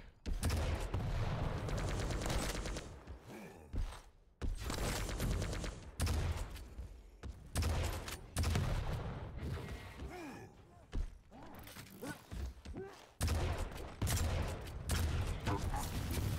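Rocket explosions and weapon fire in a Quake Champions duel between cypher and rapha, loud heavy blasts in rapid bursts broken by short pauses, with mechanical clanks between the volleys.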